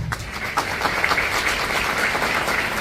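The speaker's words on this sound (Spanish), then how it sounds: "el doctor José Ortellado, para quien pido un fuerte aplauso" Audience at an obstetrics association congress in Paraguay giving sustained, even applause, a dense crowd clapping close and fairly loud with no voices over it.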